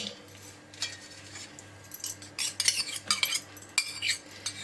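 Close metal utensils clink and scrape against a large vessel as chopped carrot, capsicum, coriander and grated coconut are tossed, the clatter growing busier toward the end.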